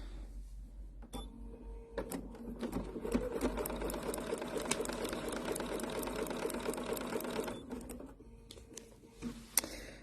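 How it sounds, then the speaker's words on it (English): A sewing machine runs a straight stitch along a line on raw-edge appliqué, a steady close whirring burst of about seven seconds with brief starts and stops at either end. "we're going to sew on the line. So we need a straight stitch."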